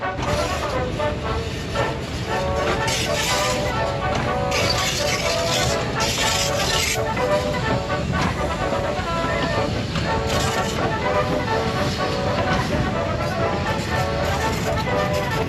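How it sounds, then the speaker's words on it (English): A train with boxcars rumbles along the tracks with steady clattering and screeching metal, a continuous mechanical din lasting throughout. "And then here comes one of the trains right now, actually."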